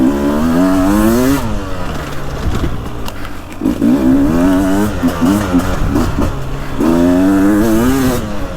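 A two-stroke dirt bike, a 2025 KTM 300XCW Champion Edition or 2024 Beta 300 Race Edition, revs loud and close in rising and falling surges, with a steady throttle stretch in the middle.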